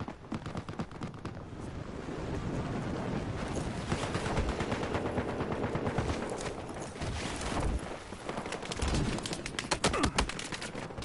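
Loud, dense gunfire from a shooter video game, with rapid automatic bursts and overlapping shots rattling continuously for the whole stretch and no talking.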